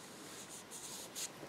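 Alcohol-based blending markers rubbing across embossed paper, a soft continuous scratchy stroke with brief brighter bursts as the tip drags over the raised surface, close and quiet with no voices.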